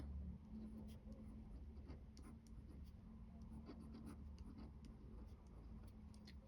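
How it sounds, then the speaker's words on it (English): A gold pen writes names on paper close up, making faint, quiet scratching and ticking strokes in an irregular rhythm over a soft background hum. "It is only right that I write the names underneath."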